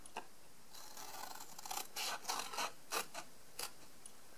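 Scissors cutting card along a score line, heard as a faint, close series of short crisp snips and scratches in an irregular rhythm, with quiet gaps between them.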